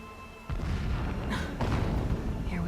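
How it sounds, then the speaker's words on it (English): Blasting in Horizon Zero Dawn: a heavy boom lands early and a rumbling, roaring explosion continues for the rest of the passage, with further thuds and crackle over it. "The blasting should cover any noise you make."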